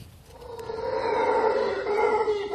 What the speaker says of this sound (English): That's the howler monkey.